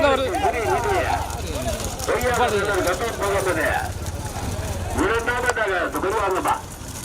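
Bulls pulling carts in a bullock cart race thunder past with rapid hoofbeats and rumbling wheels, while a loud announcer's voice runs over the top throughout.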